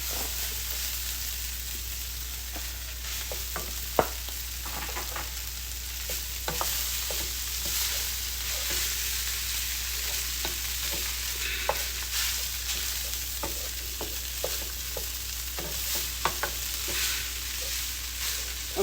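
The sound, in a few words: cold rice stir-frying and sizzling in a pan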